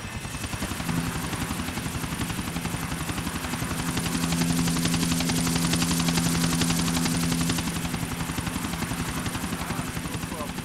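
A Buzzard attack helicopter flying in the video game GTA 4, steady loud rotor chop throughout that swells in the middle, with a sustained engine tone beneath and some talking.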